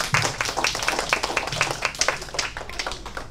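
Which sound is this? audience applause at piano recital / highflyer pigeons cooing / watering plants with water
audience applause at piano recital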